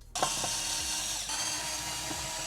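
A small power driver or drill whirs steadily and fairly loudly, taking out the screws holding the side mirror motor on a 5th gen Toyota RAV4, with faint clicks and changes in pitch as the screws back out.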